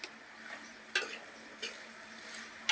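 Okra frying in a pan while being stirred slowly and steadily, a soft continuous sizzle broken by a few louder scraping strokes of the spoon against the pan, close and without speech.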